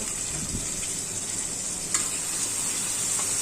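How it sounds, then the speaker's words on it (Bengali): Chicken pieces fry with onions in hot oil, giving a steady, close hiss of sizzling with a few soft stirring scrapes and no talking. "মুরগিগুলো পেঁয়াজের সাথে ভেজে নিব"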